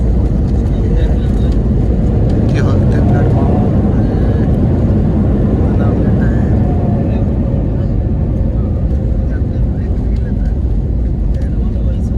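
An IndiGo airplane landing at Mumbai airport, heard from inside the cabin as a loud, steady roar of engines and rushing air with rumbling rollout throughout, and faint background voices.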